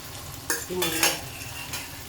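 Cha-om leaves fry in oil in a pan, giving a soft sizzle. A few sharp scrapes and clinks from stirring stand out over the continuous frying noise, with no voices.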